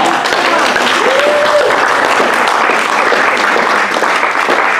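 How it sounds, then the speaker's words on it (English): A church congregation applauds loudly and steadily for several seconds, with dense, sustained clapping filling the room. "Let's clap for that."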